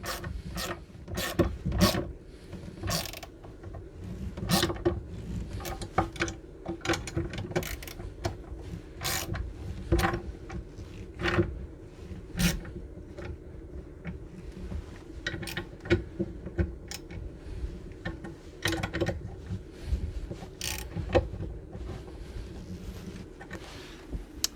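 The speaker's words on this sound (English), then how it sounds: "a 1/2-inch ratchet or socket on a 3/8 ratchet here, and we'll tighten that up" A 3/8-inch ratchet tightens bolts on a Muddy Ultra Tree Seat, rapid close metallic clicking in repeated bursts with small clunks of the metal frame between strokes, and no talking.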